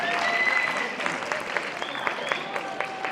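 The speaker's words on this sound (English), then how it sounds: "Give a big round of applause for everybody." An audience at a school workshop event breaks into steady, sustained clapping, filling the room at moderate volume with a few crowd murmurs underneath.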